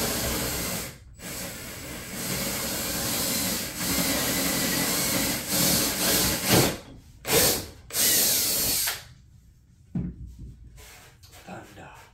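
A power drill bores into wood for a locomotive control stand in loud, sustained whirring bursts broken by short pauses, and the later bursts come shorter and choppier.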